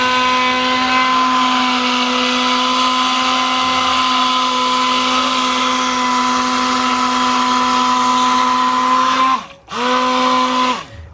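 A blender whirs steadily as it mixes coconut oil and olive oil soap, a loud constant motor hum that drops off briefly near the end before spinning back up.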